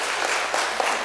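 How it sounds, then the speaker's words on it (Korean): A church congregation applauds in a dense, steady wash of clapping across the whole brief moment, with no pauses. "한번 박수로 환영하겠습니다"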